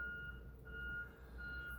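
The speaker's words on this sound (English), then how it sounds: "Got the garbage truck outside picking up the bins." A garbage truck outside collecting bins gives off a steady, fairly faint reversing beep that holds through the whole moment over low engine rumble, with no talking.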